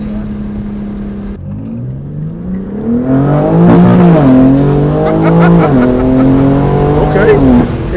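A BMW G80 M3 fitted with a PSI midpipe revs up loudly and throatily, the engine note climbing and falling through several pulls, with a person speaking briefly over it.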